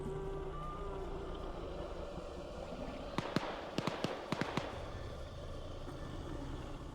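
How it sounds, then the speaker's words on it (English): Distant gunfire in the game Arma 3, a short cluster of about seven sharp shots fired midway through a quiet ambient background. "Hearing some more gunfire"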